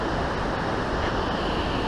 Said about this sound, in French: Ah, les cascades sont extraordinaires par contre.